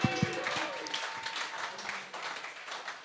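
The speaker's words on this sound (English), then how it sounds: "so big round of applause." Crowd applause at a live Carlton football draft event at Hill End Footy Club, opening with a few sharp close claps and then settling into softer, scattered clapping from a moderate distance.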